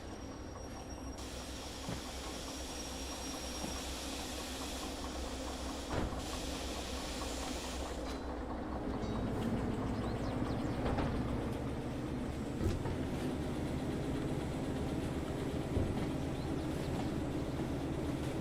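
A steam locomotive pushes a string of train cars in the Derail Valley game, with a steady hiss and rumble of rolling stock that grows a little louder partway through, heard alone without talk.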